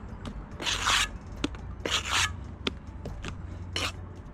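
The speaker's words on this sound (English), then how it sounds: "I like to get it on the trowel like that, scrape the sides off the top" A steel bricklaying trowel scrapes wet mortar for pointing brickwork, with three or four rough rasping strokes at a steady rhythm, separated by small taps and clicks, close and fairly quiet with no talking.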